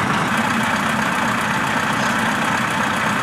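A Scania truck engine idles in Euro Truck Simulator 2 on an Indonesian map, giving a loud, steady, even rumble with no voices.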